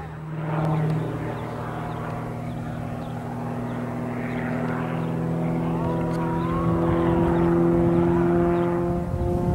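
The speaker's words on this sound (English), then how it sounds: "This amazing aircraft is a CAP" An aerobatic CAP 231X propeller plane roars steadily at an airshow with a droning engine tone that rises and shifts in pitch as it races past, loud and sustained throughout.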